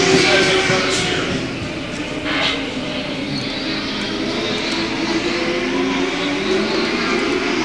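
Hobby stock race cars roar around a dirt oval at Salina in a steady, loud, continuous engine drone that swells slightly as the pack passes, heard from the stands.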